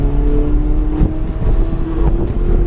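A supercar on the Charlotte Motor Speedway racetrack, its engine droning close and loud with a steady rising tone as power rolls on, with no one talking over it.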